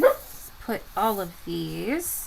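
A pet dog indoors gives a few short, close yips and barks with whiny, rising tones, mixed in with a person speaking nearby.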